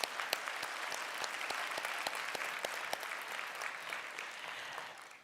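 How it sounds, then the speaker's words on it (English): An audience applauds staff and marshals at a nursing college graduation ceremony, with dense, steady clapping from a large crowd, heard at a distance with individual sharp claps standing out. "let's give them a round of applause"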